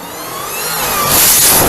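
A Dodge SRT Demon's 6.2 litre supercharged V8 revs up close and loud, its engine note building steadily with a rising high whine over the roar.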